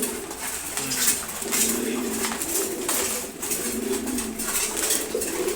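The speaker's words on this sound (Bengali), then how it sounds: "অনেক সুন্দর এক জোড়া কবুতর আছে" Several pigeons in a loft coo continuously, overlapping low warbling calls close by, with light scratchy rustles and a brief flutter of wings, no talking.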